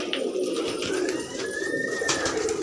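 Fancy pigeons coo steadily up close, soft repeated throaty calls over a constant background hum, with no voices.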